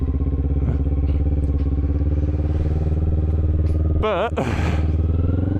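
A motorcycle engine hums steadily and loudly while the bike slows gently through the gears, with a brief rise and change in engine note near the end. A person speaks a single word over it.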